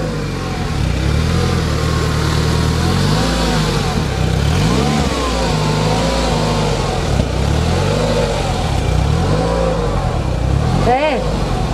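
Secma F16 small car engine running just after starting, a close, fairly loud idle with several rising revs and pitch swings, steady throughout with no one speaking.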